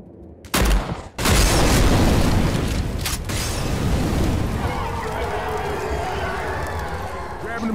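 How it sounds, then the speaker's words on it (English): Sustained rapid gunfire from a machine gun in the video game Left 4 Dead 2, loud and close, following a sharp burst and continuing as a dense roar with an explosive thump partway through. "Machine gun."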